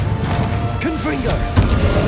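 A fiery Confringo spell blast in the Hogwarts Legacy video game, a sharp crashing impact with whooshing, swirling magical tones around it, followed by a second thudding hit.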